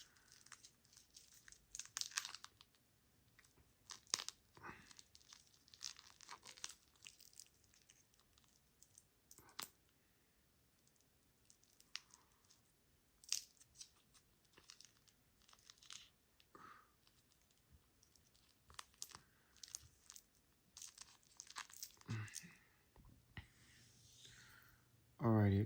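Watch packaging being unboxed, with irregular bursts of plastic crinkling and sharp tearing close by, quiet pauses between, and a louder rip at the end.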